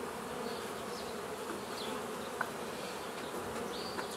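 Agitated honey bees in a hive that seems to hold two rival colonies: a dense, steady buzzing drone with occasional individual bees zipping close past, heard quietly and without any talking.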